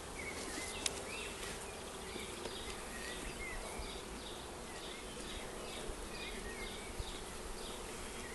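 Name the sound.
honey bees buzzing at a bait hive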